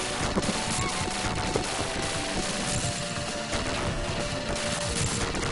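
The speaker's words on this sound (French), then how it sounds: "le son de la mitrailleuse est trop génial" Rapid machine-gun fire from the Mega Drive game Gunstar Heroes: a constant, harsh chattering barrage mixed with crashing explosions and chiptune game effects, steady throughout.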